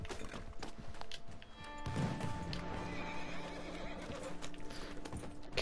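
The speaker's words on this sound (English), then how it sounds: "Guess the dynamite spooked my horse." A spooked horse in the video game Red Dead Online whinnies loudly over a run of clip-clopping hooves, with a sharp crack near the start and game ambience around it.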